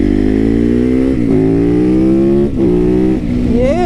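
Supermoto motorcycle riding along quiet dead-end residential streets, its engine droning loud and close with steady harmonic tone, brief throttle dips and rises, and a climbing rev near the end.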